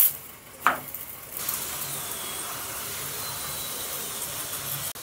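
Egg paratha fries in a pan with a steady, soft hiss that starts after a brief clatter, then continues evenly at a low level, with a small click near the end.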